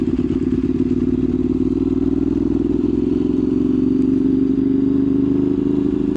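A 2015 Ducati 848 EVO motorcycle drones steadily while riding, its loud engine note holding a constant pitch with wind rumble and no speech for the whole stretch.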